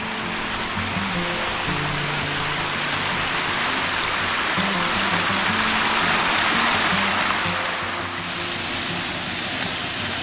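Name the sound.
mountain creek flowing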